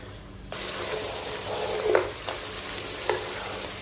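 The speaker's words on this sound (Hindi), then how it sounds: "10 मिनट के लिए हाई फ्लेम के ऊपर हमने गोश्त को भून लिया है।" Mutton for degi aloo gosht sizzles steadily as it is stir-fried on high flame, a continuous hiss with a few clicks and scrapes of stirring, close and fairly loud, no talking.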